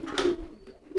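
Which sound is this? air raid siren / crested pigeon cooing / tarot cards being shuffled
crested pigeon cooing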